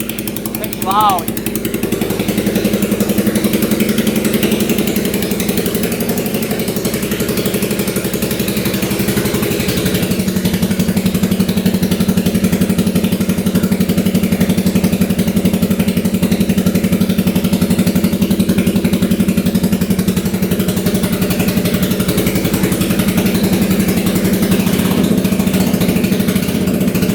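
A used UTV bought cheap from a dealership idles loudly right after starting, a steady rumbling engine drone that holds even throughout with a faint rise partway, while a voice talks over it.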